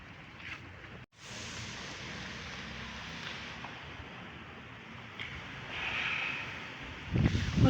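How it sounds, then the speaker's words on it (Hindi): A strong wind blows outdoors on a rainy day, making a steady, fairly loud broadband rush with a brief dropout near the start and gusts that swell toward the end. "हवा इतनी तेज़ चल रही है"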